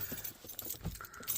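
Keys jangle in short, faint metallic clinks and rattles while someone searches for the keys to a two-door Chevrolet Tahoe in a snowstorm, with a few soft bumps and rustles around them.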